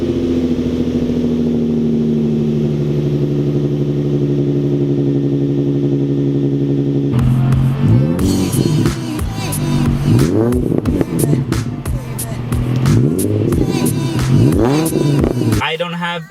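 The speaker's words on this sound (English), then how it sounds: "I do have a muffler delete with the MagnaFlow resonator. It does sound really good" A car engine idles with a steady low drone, then revs repeatedly in sharp bursts through a muffler delete with a MagnaFlow resonator, loud and close, with rising and falling pitch on each throttle blip.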